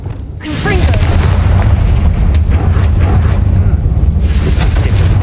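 A Confringo fire spell blasts a barricade in the video game Hogwarts Legacy, giving a loud booming explosion with a heavy low rumble that swells after a short lead-in and sustains across the whole moment, with brief crackling bursts.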